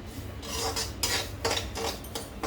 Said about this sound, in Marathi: सारखं हलवत राहायचं आहे लागायला नाही पाहिजे ही कढई वापरायचं